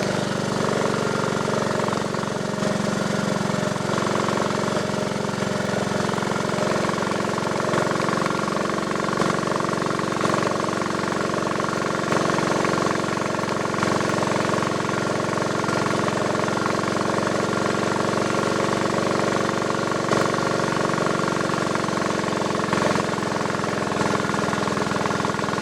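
A 1958 Triumph Tiger Cub motorcycle engine pulls steadily up a hill in top gear, making a continuous, busy drone heard close up without interruption.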